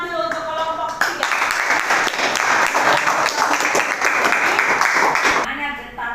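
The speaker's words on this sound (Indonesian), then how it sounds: "Tepuk tangan dulu untuk kelompok 3." Classroom applause for a student group after a physics presentation on sound waves, a dense burst of many hands clapping that runs for about four seconds, preceded by a teacher's voice and fading out at the end.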